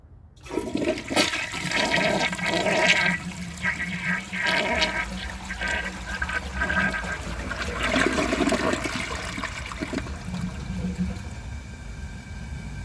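A 1985 Kilgore Aladdin toilet flushes a washcloth, starting with a sudden loud rush of water that swirls and gurgles steadily, close by, then settles into quieter refilling.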